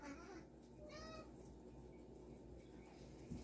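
A house cat meows several times in a short burst, close by and fairly clear over a quiet indoor room, hoping for food while a can of Spam is being opened.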